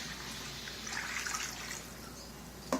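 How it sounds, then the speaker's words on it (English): Chicken stock poured into a cooking pot gives a faint, steady liquid trickle and splash for a few seconds, ending with a small clunk. "I'm going to add in 2 cups of chicken stock, and I'm going to pour it in"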